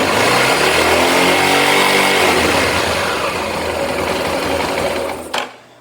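A Honda motorcycle engine revving hard during an alternator test, a loud, close, continuous buzzing drone that holds steady and then cuts off abruptly near the end.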